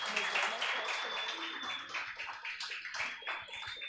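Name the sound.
church congregation applauding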